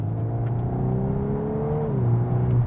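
A 2021 Volkswagen Golf R with an Akrapovic exhaust holds a steady, droning engine note that climbs gradually in pitch, then dips as the revs drop, loud and continuous with no talking.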